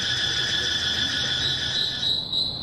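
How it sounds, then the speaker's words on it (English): Loud, constant high-pitched night chorus of cicadas and crickets droning and shrilling in an urban park area, with faint low background noise underneath and no talking. "It's cicadas, crickets, birds."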